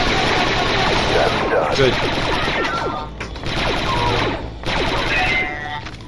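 Rapid blaster fire from Star Wars Republic Commando crackles in dense bursts with brief lulls, loud and close, while someone speaks briefly over the combat.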